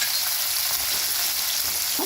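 Chopped onions sizzle steadily in hot oil, a close, continuous crackling hiss with no talking.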